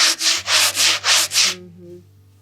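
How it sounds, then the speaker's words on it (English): Six quick, light rasping strokes of hand sanding in a steady back-and-forth rhythm, close by, then silence. "that was a pretty quick, easy, light-handed sanding"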